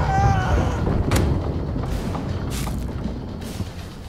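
A ship's broadside of starboard cannons fires in Blackwake, a naval battle game: a heavy boom opens and more shots crack through a rumbling roar, loud and close, over continuous battle din.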